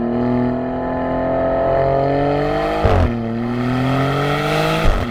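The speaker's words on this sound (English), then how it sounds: "This is an active exhaust, and it sounds phenomenal." A 2023 Maserati GranTurismo with an active quad-tip exhaust revs up and holds high, drops sharply near the three-second mark, then climbs again, loud and close with no talk.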